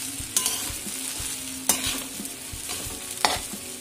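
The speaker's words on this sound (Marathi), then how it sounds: "तसेच व्यवस्थितपणे हे सर्व हलवून घ्यायचं आहे" Sabudana khichdi mixture being stirred in a hot pan: a low sizzle under a few sharp spatula scrapes spaced about a second or more apart, close up with no speech.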